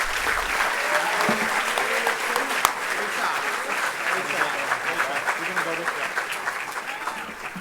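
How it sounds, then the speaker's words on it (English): A crowd applauds at a high school varsity sports awards ceremony, steady clapping filling the room with scattered sharp individual claps, and a voice comes through the applause partway in. "Another round of applause for them"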